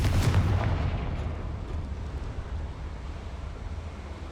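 A Confringo fire spell blasting in Hogwarts Legacy, one loud booming explosion at the start that fades into a long rumbling decay with no voices.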